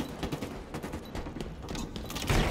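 Rapid gunfire in the Halo Infinite ranked Oddball video game, a short burst of quick repeated shots at moderate level over game background sounds.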